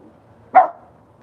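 A dog gives a single short, sharp bark close by against a quiet background.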